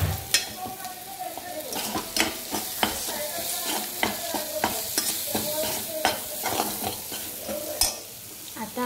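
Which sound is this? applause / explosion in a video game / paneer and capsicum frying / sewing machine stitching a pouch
paneer and capsicum frying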